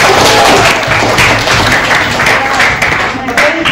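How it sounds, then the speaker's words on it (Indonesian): A class of students claps together at the close of a lesson, a dense, steady patter of many hands held close and loud for the whole stretch with a slight thinning near the end. "Dan yuk tepuk tangan buat kita semuanya."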